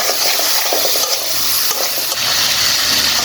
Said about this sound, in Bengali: এখন আমি মশলাটা ভালোভাবে কষিয়ে নেব।